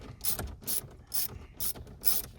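Ratchet loosening 10 mm bolts on a 2016–2021 Toyota Tacoma, five evenly spaced bursts of rapid clicking, close and clear with no talk.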